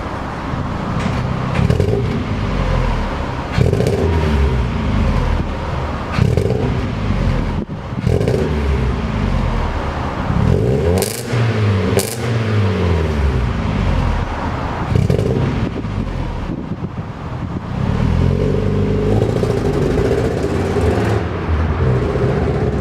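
Mazda MX5 engine idling and revving unevenly while driving slowly around a car park, a steady loud drone with dips and surges suggesting a stutter, no talking.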